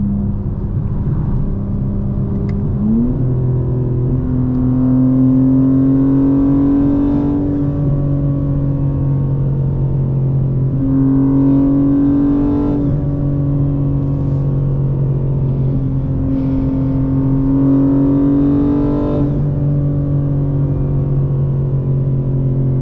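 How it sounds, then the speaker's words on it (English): Loud, close exhaust of a Stage 2 tuned 2025 BMW M4 Competition xDrive (about 800 horsepower) revving repeatedly in a steady cycle, rising and falling with deep rumbling tone and crackling burbles between pulls. "I love the burbles, guys, I'm not gonna lie."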